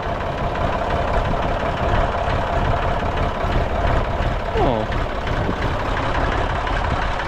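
A low, steady Ursus MF 255 tractor engine idles continuously, a rough rumbling drone with no change in pitch throughout.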